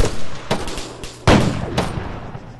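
Gunfire in the military shooter game ARMA 3: a handful of sharp single shots at irregular intervals, one much louder and closer, with fainter distant reports and a soft rumbling tail, no talk.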